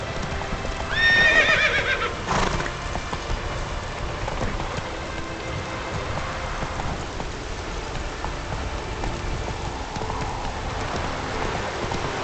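Roach, the horse in The Witcher 3: Wild Hunt, gives a clear whinny near the start, then steady hoof clip-clop continues over soft rain for the rest of the stretch.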